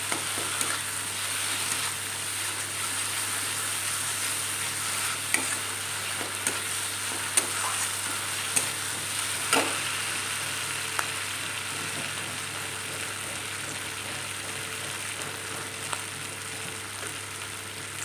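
Green peas fry in oil and spice masala for a katla fish curry, giving a steady, even sizzle with faint spatula scrapes and clicks against the pan, over a low background hum.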